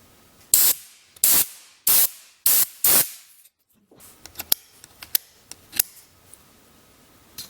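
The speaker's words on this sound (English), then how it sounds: "I'm going to use the air compressor to blow that out" Short blasts of compressed air from an air compressor blow dust out of an Xbox controller, five loud hissing bursts in a row, followed by quieter clicks and taps of handling plastic parts.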